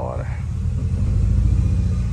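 A sporty Mini Cooper engine runs at a steady, loud, deep rumble close by, with a brief voice at the very start.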